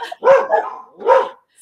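A corgi named Kiba barks twice, loud and close, with a short gap between the two sharp yaps during a pet podcast recording.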